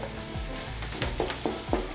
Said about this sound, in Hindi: मैं इसको साथ साथ बीच में आप देखें इस तरह करती जा रही हूँ ताकि ये मसाले के साथ मिक्स होती जाए